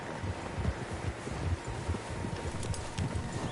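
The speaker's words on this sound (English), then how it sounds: "Horses, quite a few of them." Horse hooves clip-clopping in Red Dead Redemption II, several horses moving together at a steady walking rhythm, fairly close and continuous, with light wind and rustling behind them.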